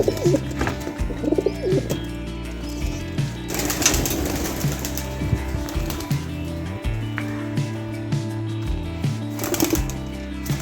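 Pigeons coo repeatedly nearby, soft throaty calls overlapping in an irregular rhythm, with occasional light tapping and rustling.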